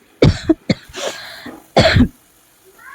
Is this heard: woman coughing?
yes